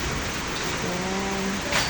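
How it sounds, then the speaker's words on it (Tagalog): Very heavy rain pouring down during a storm with strong wind, a dense, steady hiss filling the air throughout with no talk. "Sobrang lakas ng ulan dito sa amin."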